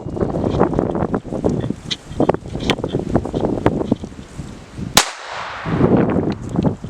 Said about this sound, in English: So we got 22 long rifle on my Keltec P17.